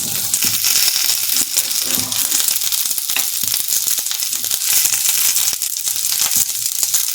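Pointed gourd pieces fry in oil with turmeric and salt, giving a loud, steady, close crackling sizzle that continues throughout with no voices.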